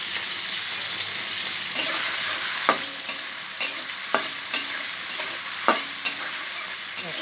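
Onions and green chilies fry with spices in a pan, a loud, steady sizzle broken by regular scraping knocks of a spoon stirring, close and alone.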